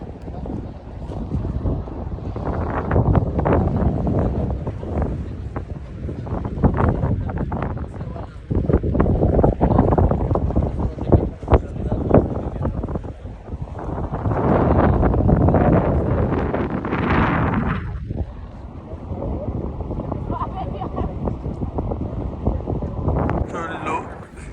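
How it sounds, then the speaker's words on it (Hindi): Strong wind buffets the microphone on London Bridge, a loud rushing roar surging in gusts throughout, with someone talking over it at times. "इतनी तेज़ ज़्यादा यहाँ पे हवा चल रही है ना, इतनी शायद आवाज़ भी ठीक से आ रही नहीं होगी।"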